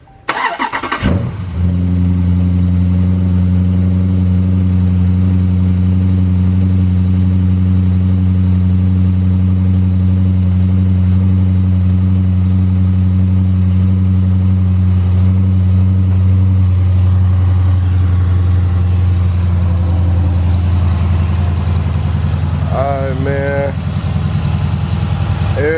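A 500+ hp Dodge Charger Scat Pack fitted with Hellcat injectors cranks and fires up with a loud burst, then settles into a steady deep rumbling idle close by, with faint clatter near the end.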